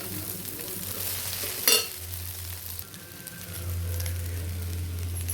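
Egg noodles with green chilies and chili powder are stirred in a frying pan: a loud, steady sizzle with scraping strokes, one sharp clank of the utensil against the pan, then the frying continues.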